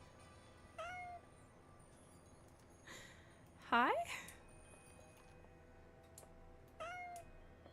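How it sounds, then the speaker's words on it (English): A black cat meows several times, with short calls, one longer rising meow in the middle and a final call, fairly close in a quiet room. A person speaks a brief greeting between the calls. "There's a void kitty here."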